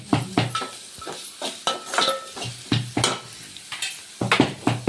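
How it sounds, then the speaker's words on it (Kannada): A stir-fry of vegetables with cumin, mustard seed and onion gets stirred in a pan, with repeated close scraping and clanking strokes over a faint sizzle and no talk. "ನಮ್ಮ ಅತ್ತೆ ಪಲ್ಯ ಮಾಡ್ಲತ್ರು"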